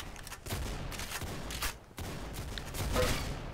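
Shotgun fire in the Roblox game Arsenal comes as a dense, continuous barrage of loud, harsh blasts, briefly dipping before resuming just as heavily.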